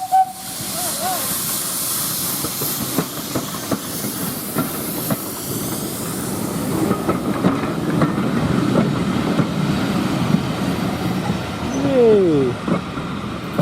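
A real Stroudley Terrier steam locomotive runs at Bodiam, with steady loud hissing steam and chuffing, a short whistle at the start and another whistle call near the end.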